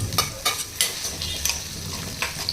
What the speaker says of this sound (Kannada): ಬೆಳ್ಳುಳ್ಳಿನ ಆ್ಯಡ್ ಮಾಡಿಕೊಂಡು ಸ್ವಲ್ಪ ಈರುಳ್ಳಿ ಮತ್ತು ಬೆಳ್ಳುಳ್ಳಿ ಕೆಂಪಗಾಗೋವರೆಗೂ ಫ್ರೈ ಮಾಡ್ಕೋಬೇಕು